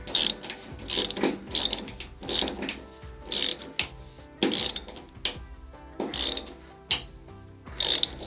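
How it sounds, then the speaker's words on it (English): A hand ratchet clicks in quick, sharp bursts as a bolt is tightened on a repair panel for a classic Austin car, close and loud, with a steady rhythm of repeated strokes and no talking. "get the ratchet going the right way around. Tighten it up."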